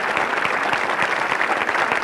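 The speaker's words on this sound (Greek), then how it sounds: "Χειροκρότημα." Studio audience applause on a 1993 Greek television game show, loud continuous clapping from many hands, dense and even throughout without talk over it.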